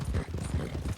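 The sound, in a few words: Missouri Foxtrotter horse hooves in Red Dead Redemption 2 video game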